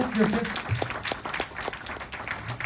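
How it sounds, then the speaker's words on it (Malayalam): Audience at a training program giving a round of applause, scattered clapping heard under a speaker's voice, fairly faint and uneven. "അദ്ദേഹം നല്ല ക്ലാപ്പ് കൊടുത്തേ"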